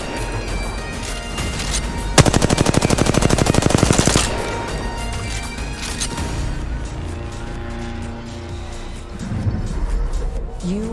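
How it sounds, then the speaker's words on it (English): Enemy gunfire in the Apex Legends video game: a loud, rapid automatic burst lasting about two seconds, set against continuous game ambience before and after. "The enemies are shooting at me."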